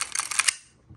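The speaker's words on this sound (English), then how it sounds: "just hear the difference by me putting down the mag" A BB pistol magazine set down on a surface gives a quick cluster of light, crisp clicks and taps, close and short, then fading into near silence.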